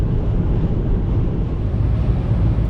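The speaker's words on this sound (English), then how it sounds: "You really feel the wind pushing us around, eh?" Strong wind buffets a car crossing a long bridge of about 5 km between mainland Denmark and a large Danish island, a loud, steady low roar with constant rumbling gusts and no talking.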